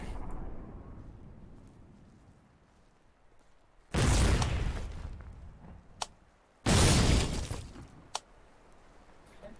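Mortar explosions in the war game Foxhole, two heavy booming blasts a couple of seconds apart, each followed by a rumbling tail, plus a couple of sharp distant cracks against a quiet battlefield background.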